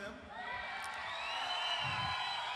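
A conference audience at a Genpact corporate event clapping and cheering for two team members introduced on stage, a steady loud wash of crowd noise with whoops that rises slightly toward the end.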